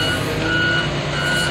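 A loader's reverse alarm sounds repeated high electronic beeps at an even pace over the loud, steady rumble of its engine, close by and with no talking.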